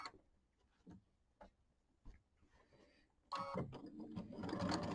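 A sewing machine tacks down layered fabric for a quilted project: a few soft needle clicks and handling taps at first, then a steady close whir of stitching.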